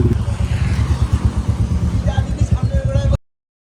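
A Royal Enfield Bullet motorcycle riding, its single-cylinder engine thumping in a loud, close, rapid steady pulse with rumble and road noise, cutting off abruptly near the end.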